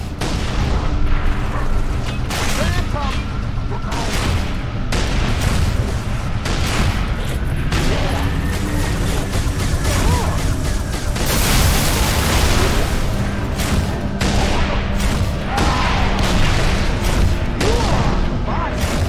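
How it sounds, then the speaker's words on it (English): Heavy gunfire and booming explosions fill a firefight against a turret in Halo 3: ODST at Kikowani Station, dense loud bursts and blasts rolling on throughout, with voices calling out over the combat. "They're killing us with that turret!"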